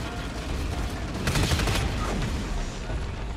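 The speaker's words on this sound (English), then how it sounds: "Rather fine use of a forge gun in Arena 1, trying to take out one of the tanks there." A forge gun fires at tanks during a DUST 514 tournament final match: a loud, bright burst of heavy fire cuts through a dense, continuous roar of battle noise and rapid gunfire.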